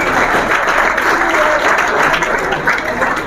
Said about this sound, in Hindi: स्वागत करें प्रोफेसर साहब का भाई, जोरदार तालियों से स्वागत किया जाए।